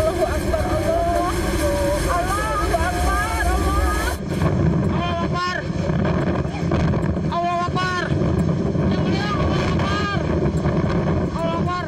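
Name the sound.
whirlwind winds striking Ujung Berung, Bandung, filmed by residents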